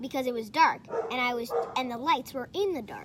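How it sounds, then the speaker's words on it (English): A dog barks and yips indoors in the background in a few short bursts, mixed in with someone talking nearby. "that's my dog in the background"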